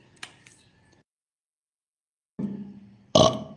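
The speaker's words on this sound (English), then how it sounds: "Uh-oh, I burped." A single short burp from a person, close and fairly loud, following a brief faint throaty sound and a stretch of silence.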